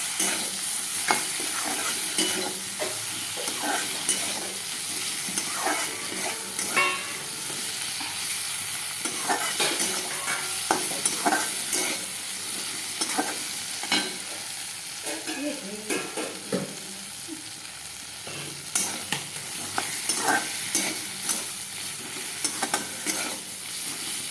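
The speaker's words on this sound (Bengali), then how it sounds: "মশলাটা ভালো করে কষবে" Masala for a thin katla fish and potato curry frying in oil, with a steady sizzle and repeated spatula scrapes and stirs against the pan throughout, and no talking.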